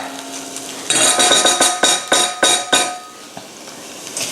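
Vegetables, carrot among them, stir-fried in a pot for Russian-style borscht: a rapid run of metal clatters and scrapes from spoon on pot over a steady sizzle, loud and close, easing off toward the end.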